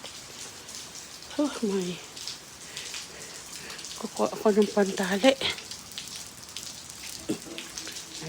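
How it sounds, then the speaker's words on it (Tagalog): Constant rain patter hisses throughout, a loud downpour on surfaces, while a person speaks briefly over it in two short bursts. "Sobrang lakas po ng ulan."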